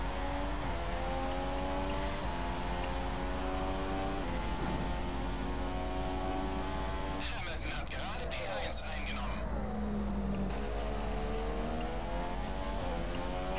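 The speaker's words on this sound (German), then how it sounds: "Gib jetzt Gas" Formula 1 race car in the F1 2015 game at Bahrain, its high engine whine rising steadily through the gears with shifts, loud and continuous, while someone talks over it.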